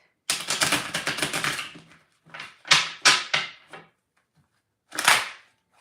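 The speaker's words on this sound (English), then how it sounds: "Let me do a little shuffle for this because we've been using it and I haven't, really cut the deck." Tarot cards being shuffled and the deck cut by hand: a long riffling burst of rapid card flutter, then several short crisp snaps and slaps, a pause, and one final brief riffle, all close and alone without talk.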